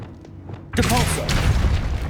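A Depulso force spell cast in Hogwarts Legacy bursts in as a sudden loud whoosh with a booming impact, followed by a sustained rumbling, crackling magical tail.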